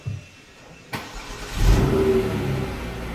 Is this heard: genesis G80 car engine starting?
yes